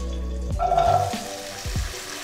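Small shallot-type onions hit a hot pan and start sautéing for mutton chukka, giving a steady close sizzle with a few scraping stirs toward the end.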